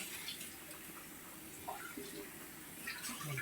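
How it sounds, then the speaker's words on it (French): Running warm tap water flows steadily while something is rinsed under it during chicken drumstick tadjine preparation, a soft continuous splashing with faint movements in a quiet kitchen. "Je vais le rincer dans l'eau."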